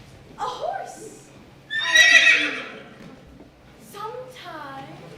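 A horse neighs in a stage production of A Midsummer Night's Dream, a loud whinny with a shrill rising-and-falling cry, followed by a shorter second call, set amid a quiet theatre space with a voice nearby.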